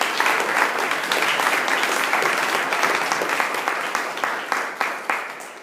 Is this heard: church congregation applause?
yes